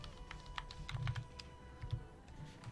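Keys clatter on a computer keyboard in quick irregular bursts, close and fairly soft, while searching a config file for American Truck Simulator, with a steady faint hum underneath and no talking.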